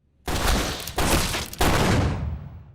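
Gunfire in a film execution scene: three loud, close blasts in quick succession, each with a long booming decay, with no talk.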